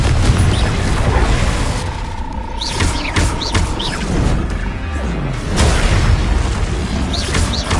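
Confringo and Bombarda spells explode in a Harry Potter video game battle, a loud, dense run of crashing booms and blasts layered over continuous game noise.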